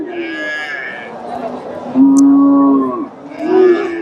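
A desi cow at a cattle market moos close by in long, loud, drawn-out calls, with a second lowing call starting near the end.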